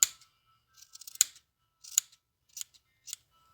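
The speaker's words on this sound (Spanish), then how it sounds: "Ahora cortamos los hilitos para emparejar la borlita." Scissors trim the yarn threads of a crochet tassel: several crisp, close snips spaced irregularly across a quiet background, with no voices.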